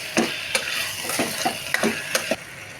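Veg kurma being stirred in a pan with a spoon, a series of about nine sharp scraping knocks at an irregular, fairly quick pace over a low continuous sizzle, close and clear with no talk.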